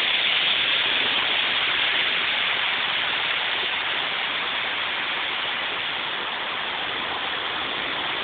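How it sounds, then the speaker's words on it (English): Torrential rain pours down during a severe Brisbane storm, a dense, loud, unbroken roar of water that holds steady the whole time with no voices. "We almost never see rain like this unless it's in a big storm"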